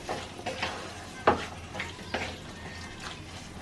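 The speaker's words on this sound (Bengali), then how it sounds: "এখন এর মধ্যে আমি কেটে ধুয়ে ঝরিয়ে রাখা চিকেনটা দিয়ে দিচ্ছি। মশলার সাথে ভালোভাবে মিশিয়ে নিচ্ছি।" Chicken pieces get stirred with spices in a frying pan, with a soft sizzle under several scraping stirs and one sharper clatter of the spoon against the pan, all fairly quiet and close.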